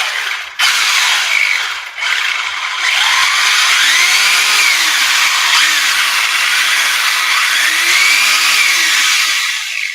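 6S Traxxas Mini Maxx RC car motor revving at quarter throttle, a loud, close, high-pitched electric whine that cuts out briefly twice, then holds steady while rising and falling in pitch.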